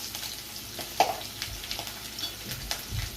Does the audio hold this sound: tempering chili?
yes